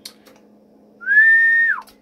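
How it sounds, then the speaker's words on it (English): A single steady whistle into the microphone of a Kenwood TS-520 ham transceiver on 80 meters, held about three-quarters of a second and then bending downward at the end, loud and alone over a faint hum. "with my little whistle test there"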